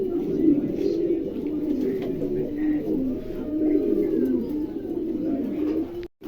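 A pair of pigeons in a pigeon market, cooing continuously up close in low, rolling, overlapping calls, with faint talk in the background.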